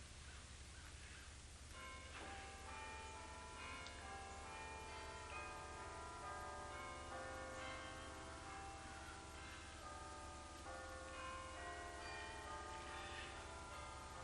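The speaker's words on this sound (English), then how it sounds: "My husband used to love the bells." Church bells ring out in a dense, sustained peal, many overlapping tones sounding together continuously and fairly loud, heard from nearby with no talk over them.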